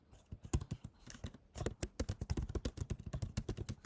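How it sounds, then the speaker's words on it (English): Computer keyboard typing picked up during an online meeting, a rapid run of close, crisp key clicks with a brief pause before the clatter resumes. "we were hearing your typing somehow"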